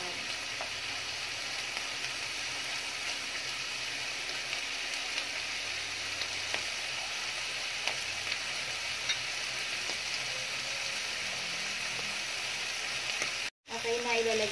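Ham fries in a pan for carbonara, a continuous crackling sizzle like light rain, steady and close, with a brief dropout near the end.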